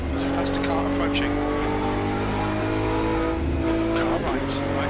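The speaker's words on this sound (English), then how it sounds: "Rick, there's a faster car approaching" A race car in the Automobilista 2 racing game hums along steadily with engine drone and some tire noise. A voice talks over it.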